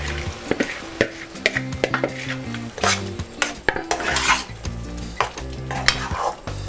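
Boiled masoor dal tipped into a sizzling pan and stirred, with a utensil repeatedly scraping and clinking against the metal over steady frying hiss, close and busy, with no voice.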